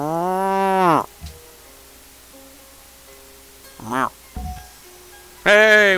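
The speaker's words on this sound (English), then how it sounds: "Oh, cattle." Cattle lowing in the strategy game Civilization 5: a long, loud moo opens, a shorter moo follows mid-way, and another begins at the end, with quiet game ambience in between.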